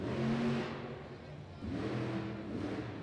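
A Monster Jam monster truck's engine revs hard on the throttle in an arena in Rosemont, a loud, droning roar that dips and then surges again.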